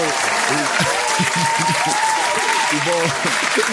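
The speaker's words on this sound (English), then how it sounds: "Applause for the stimulus check." Loud, close applause from a small group, dense continuous clapping that runs throughout while people talk over it.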